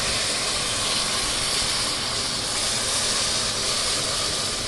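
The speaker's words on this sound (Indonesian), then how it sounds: "Jangan kaget nanti ada seperti meletus atau mendidih ya, nggak apa-apa." Water is poured gradually into hot caramel for an ant-nest caramel sponge cake, producing a loud, steady hissing sizzle and bubbling that fills the whole stretch without pause.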